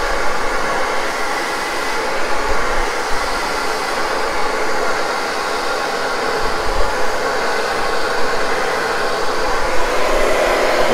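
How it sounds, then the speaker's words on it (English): Hair dryer blow-drying the back of a classic bob with the nozzle pointed down, a loud, close, continuous rushing whoosh that holds steady throughout. "just pointing the nozzle down, and drying that back area"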